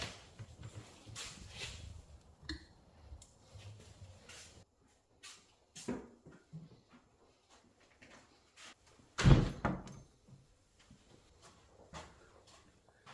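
An oven door opens and shuts around a motorcycle shock spring being taken out in a workshop, giving scattered clunks and handling noises with one loud bang near the middle, otherwise quiet.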